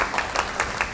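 Children clapping as a group at a gathering, a short burst of applause with several rhythmic claps, fairly close.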